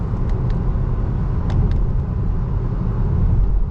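A 2019 Honda Clarity plug-in hybrid cruises along, its cabin filled with a steady low road rumble and tire noise at moderate level, with no voices over it.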